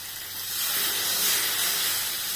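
Water poured into hot oil in a pan with pabda fish, a broad steady hiss of sizzling and steam that swells and holds, close and alone.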